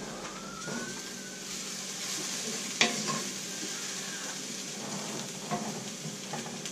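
Steady sizzling of garlic frying in a pan, with a sharp clink partway through and light stirring scrapes.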